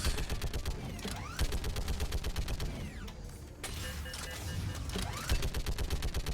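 Turret gunfire in Mass Effect Legendary Edition 3: rapid, continuous bursts of automatic shots, loud and close, with mechanical whirs and game effects layered over a dense, steady barrage.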